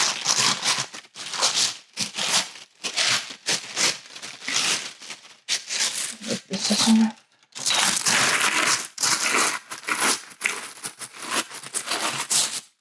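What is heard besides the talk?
crinkly pattern paper being handled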